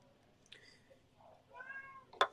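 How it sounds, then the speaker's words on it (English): A cat meows several times, drawn-out tonal calls rising and falling, ending with a sharper, louder meow; quiet room otherwise. "And I'd like to introduce Timmy to our stream, my cat"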